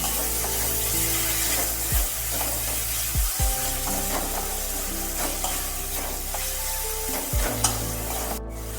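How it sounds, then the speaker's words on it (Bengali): Pointed gourd is stirred with ginger-garlic paste in a frying pan, a steady sizzle of frying running underneath with several scraping strokes of a spoon against the pan, close by. "দিয়ে একটু ভালোভাবে আবার নেড়ে নিতে হবে"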